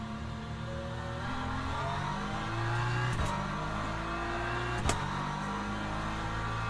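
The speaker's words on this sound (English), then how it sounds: "Right, hypercar coming." In the Le Mans Ultimate racing game, a hypercar's engine drones and revs through rising and falling gear changes, with a couple of sharp transient clicks as it comes up and passes, and no speech.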